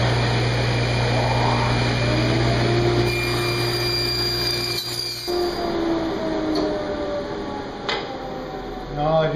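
A power saw cuts a cherry wood rail for an end table, a steady loud whine running through the whole stretch with shifting tone as the blade passes through the workpiece, no talk over it.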